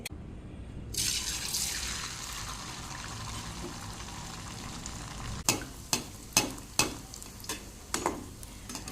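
Rice flour puris deep-frying in a small amount of hot oil, a loud steady sizzle starting after a second of near silence, then a run of sharp clinks and scrapes from a utensil in the pan over the frying hiss.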